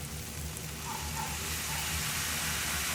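Hake fillet and pak choi cooking in a hot pan with a splash of water added, giving a steady, close hiss of sizzling and steaming that holds at an even level throughout.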